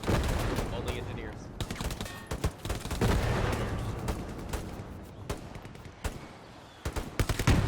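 Sustained gunfire in the WWII shooter Hell Let Loose, dense bursts of rapid rifle and machine-gun shots with a few heavier cracks, close and loud, running almost without pause.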